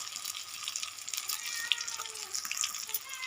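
Water is poured into a pan of Odia chicken curry, giving a steady, soft rushing splash with light sizzling over the whole stretch and no pause.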